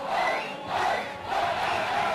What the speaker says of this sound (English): You can hear the crowd starting to get excited here.